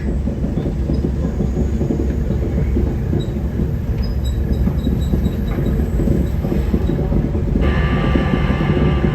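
A Via Rail passenger train rumbles loud and continuous with rolling wheel noise and a faint high squeal, no voices.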